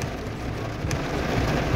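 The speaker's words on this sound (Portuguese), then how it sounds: "Vamos esperar essa chuva passar aí." Steady rain falls at a rural property, a dense, even hiss of drops hitting surfaces that holds unbroken throughout, with a faint low rumble beneath.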